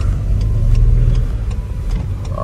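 A rented 1.0-litre car in Liverpool, England, its small engine droning and rising under acceleration, then dipping as the gear changes, heard loud from inside the cabin without talk.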